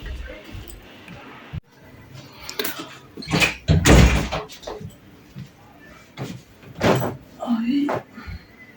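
A visitor at a home's door: a couple of knocks or door thumps and a door opening and closing, with people talking nearby throughout.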